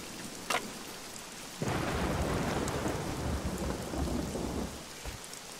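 Steady rain pours down in the survival game Scum with thunder rumbling, starting after a brief quieter moment and then holding a dense, loud hiss to the end.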